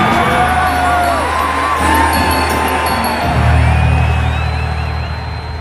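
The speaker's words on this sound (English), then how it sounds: "everywhere, the people cheer at the sight of the life-giving god" A crowd at an ancient Egyptian festival for the life-giving god cheers in a dense, continuous roar, with whoops and shouts rising over a loud wall of sound that swells near the middle and fades slightly at the end.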